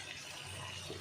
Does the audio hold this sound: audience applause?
no